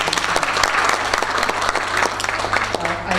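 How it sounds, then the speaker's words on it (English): Sustained applause from an audience cheering women at a presentation event, steady dense clapping throughout with a low hum beneath. "Okay, another round of applause,"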